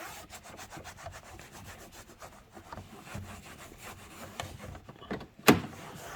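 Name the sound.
towel buffing dressing onto car trim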